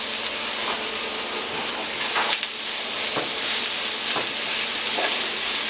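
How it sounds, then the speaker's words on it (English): Onions and peppers fry in a pan with a dense, steady sizzle and crackle, with occasional sharper pops and faint stirring clicks, close and continuous. "We'll let these onions and peppers cook a little bit, let them get kind of soft."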